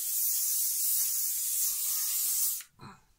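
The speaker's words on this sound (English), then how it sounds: "Hairspray." Hairspray is sprayed onto freshly braided hair in a continuous airy hiss for over two seconds, then cuts off sharply, followed by a faint soft rustle.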